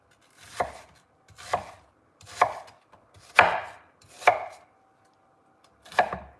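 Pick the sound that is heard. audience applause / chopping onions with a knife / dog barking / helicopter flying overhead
chopping onions with a knife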